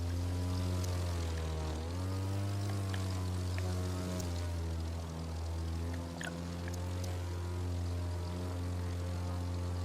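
A propeller airplane in the racing game The Crew 2 drones steadily as it powers up for takeoff, its engine pitch dipping and rising slightly over a constant, loud hum.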